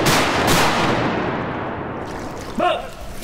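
Shotgun fire while duck hunting for greenhead mallards on an oxbow: a loud, close blast booms at the start and tails off, followed by a second sharper report near the end.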